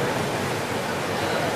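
Tsunami waves surging in on the Sri Lanka coast in 2004: a steady, loud, broadband rush of water filling the whole moment without a break.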